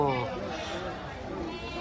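Sheep bleat close by with wavering, nasal cries among a busy flock of adults and lambs at a sheep market, while a person talks over them.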